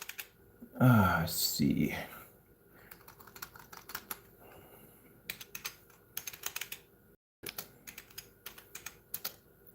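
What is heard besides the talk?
typing a name on a computer keyboard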